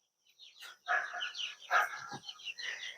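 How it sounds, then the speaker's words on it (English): Young chickens, too young to crow, give soft, high-pitched baby peeps and chirps. The calls come in scattered bursts, fairly close but quiet. "They all still have their little baby voices, no chicken crows yet, so they're still too young."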